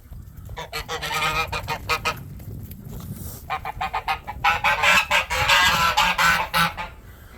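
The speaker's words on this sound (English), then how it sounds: "trying to feed my geese" Geese honk noisily at morning feeding time in a yard, their loud, close calls coming in two dense bursts of overlapping honks with a short lull between.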